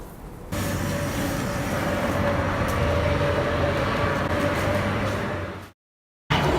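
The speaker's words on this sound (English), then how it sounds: "It's kind of loud because it's a subway" A subway train rumbles loudly and steadily with a low drone and a sustained tone, then the sound cuts out abruptly near the end.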